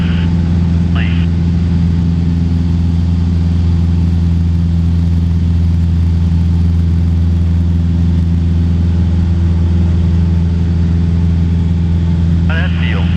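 Steady loud droning engine of a small sports plane in flight, a constant low hum with strong harmonics filling the whole stretch, with brief bits of voice at the start and end.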